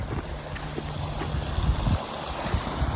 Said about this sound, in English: Look at that beautiful creek.